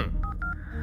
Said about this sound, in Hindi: घोड़े को ही फोन करता हूँ